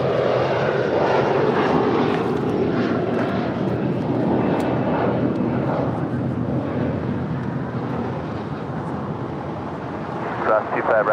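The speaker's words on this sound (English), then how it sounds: "We just said Delta Airlines Flight 40. It's an A350-900 coming in from Sydney" A Delta Air Lines Airbus A350-900 arriving at LAX from Sydney makes a loud, even jet engine rumble that fades slightly toward the end, with people talking and radio chatter mixed in.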